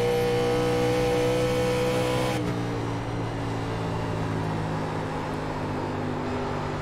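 Race car engine in the iRacing sim, a 1987 NASCAR Legends car at Charlotte Motor Speedway, holds a steady loud drone. The pitch drops abruptly partway through and settles into a lower rumble.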